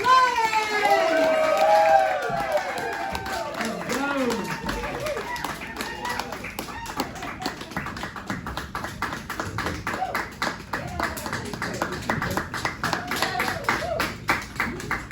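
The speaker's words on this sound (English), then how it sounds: "put those hands together for very funny Lenise" Audience at a ladies night comedy show at the Atlanta Fringe Fest clapping for a comedian taking the stage, steady dense applause and cheering throughout, with a loud voice over it at the start.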